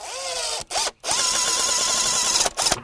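A power drill drives 3-inch screws into lumber for a sandbox frame, with a loud, close whine broken by two brief pauses and pitch dips where the motor briefly slows or stops.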